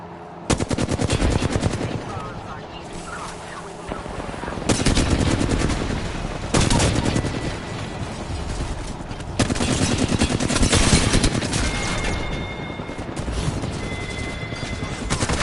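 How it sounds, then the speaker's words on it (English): Loud, close gunfire from the video game Apex Legends rips in sustained automatic bursts, separated by short pauses, across the whole stretch, with a voice faintly mixed in at times. "I'm shooting the gun, disarming it."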